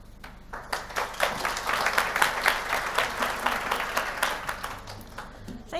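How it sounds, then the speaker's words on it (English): An audience claps throughout a hospital family violence session, a steady wash of applause that builds and holds before tapering. "I haven't had an applause in a long time."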